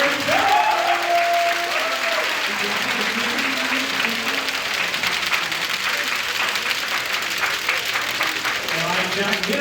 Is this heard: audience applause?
yes